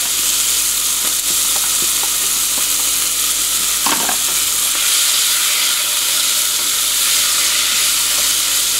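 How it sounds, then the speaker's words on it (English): Ground beef fries in a skillet with onions, celery, green peppers and garlic for chili, a loud, continuous sizzle with occasional stirring knocks from a utensil. "Now the ground beef is just about finished. We're going to add our vegetables and garlic."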